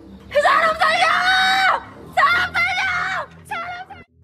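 A woman screams and cries for help in three long, loud, strained bursts with short gaps between them, the last one shorter and breaking off.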